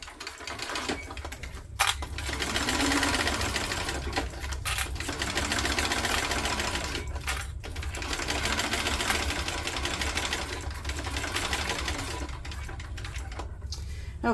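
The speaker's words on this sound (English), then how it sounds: "Just baste it down. 1/8 of an inch from the edge." A sewing machine basting a pouch panel in contrasting thread 1/8 inch from the edge, running in a fast, steady mechanical chatter in several bursts separated by brief pauses, close and moderately loud.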